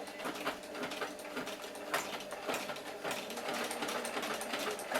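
A sewing machine stitching a line in reverse on fabric for a flag poi, rapid rattling clatter with uneven mechanical pulses, close and continuous with no voices.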